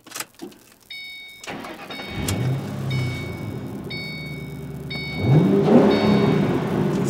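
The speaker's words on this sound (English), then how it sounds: "What an awesome V8. I mean, that's such a traditional American sounding V8." A Ford Mustang GT's V8 engine cranks and catches, then settles into a deep, loud, steady idle before revving up again near the end, close and with no talking.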